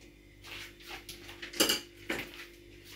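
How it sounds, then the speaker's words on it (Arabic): Ceramic and glass dishes clink and knock a few times as a blender jar is removed, with two sharper clatters near the end, close by in a quiet kitchen. "غادي نحيد هاد الخلاط هذا"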